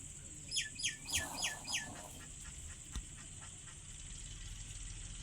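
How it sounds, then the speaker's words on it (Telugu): A chicken gives five quick clucks in a row, then only a steady background hum remains. "సార్ దగ్గర ఇలాంటి కోళ్ళు చాలా ఉన్నాయి"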